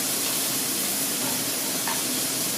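Chorizo sizzling and crisping in a smoking-hot pan, heard as a steady, dense frying hiss that runs evenly throughout at close range.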